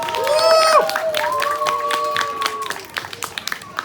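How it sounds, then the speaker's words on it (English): Audience applause at a parrot show at the Jacaranda Hotel Apartments in Pantelia, scattered clapping mixed with whistles, cheers and crowd noise, fading into a few separate claps toward the end. "Big applause for our mathematic genius"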